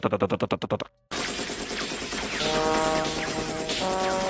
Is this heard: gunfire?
yes